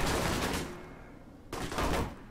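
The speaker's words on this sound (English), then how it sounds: "let's just wait out here for the gunfire to die down." Dense, rapid bursts of gunfire in the video game Alpha Protocol crackle continuously, easing briefly in the middle before swelling again, sounding like a distant firefight.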